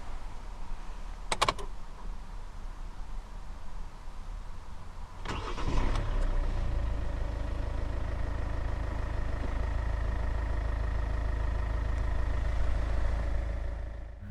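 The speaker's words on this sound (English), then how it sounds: "to start, put your foot on the clutch, insert the key into the slot right here, and twist it like you would in a normal car" A 2014 Hyundai ix35 1.7 CRDi diesel starts with a key twist: a short click, a brief cranking whir, then the engine catches and settles into a steady low idle rumble, heard close from inside the car.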